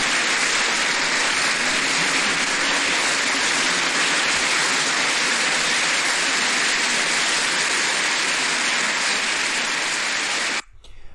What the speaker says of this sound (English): Horribly recorded clapping